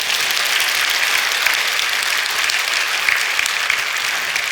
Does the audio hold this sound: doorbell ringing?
no